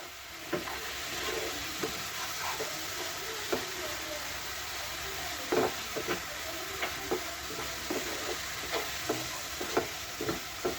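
Coconut and melted jaggery filling for semolina pitha stirred in a pan over low heat, with repeated scraping strokes of the spoon over a soft, steady sizzle, close by and with no talking.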